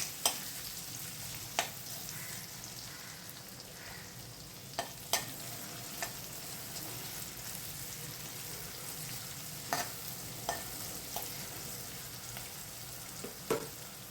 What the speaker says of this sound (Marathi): कांदा आपण छान फ्राय करणार आहोत